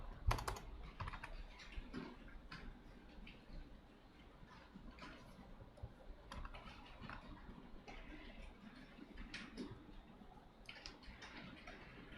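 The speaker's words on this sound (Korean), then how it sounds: "키보드 입력을 해볼까요?" Quiet, irregular clicking of keys on a computer keyboard, with bursts of typing spread across the clip over a low room hum.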